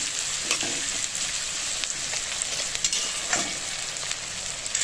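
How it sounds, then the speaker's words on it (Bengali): Salted onions browning in a pan produce a constant close sizzling hiss with faint stirring scrapes and small pops throughout; no talking. "পেঁয়াজটাকে ভালো করে লাল করে ভেজে নেব।"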